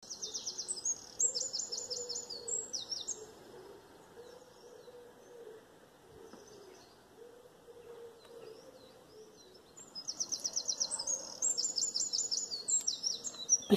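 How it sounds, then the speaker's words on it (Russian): A bird sings in a yard at five in the morning: bright, rapid trilling phrases ring out at the start, fall quiet for several seconds, then return in a loud, repeated burst. "У нас так во дворе поет птица,"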